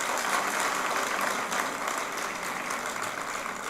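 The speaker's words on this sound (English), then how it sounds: "I like to have the claps from the guest alone." Guests at a yoga, culture and spirituality festival's cultural program applaud together in a dense, steady wash of clapping that holds at the same loudness throughout.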